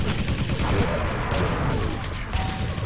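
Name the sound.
rocket launcher fire in Quake Live video game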